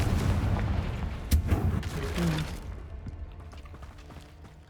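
In the Hogwarts Legacy video game, an explosive Confringo spell goes off with a sharp, loud blast and a rumbling boom that fades over a few seconds, followed by faint clicking mechanical sounds.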